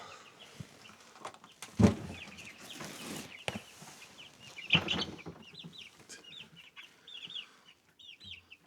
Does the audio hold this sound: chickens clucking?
yes